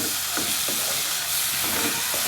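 Dry turmeric powder fries in a pan for a Bengali salted hilsa paturi, giving a brief close sizzle with scraping stirs at a steady level.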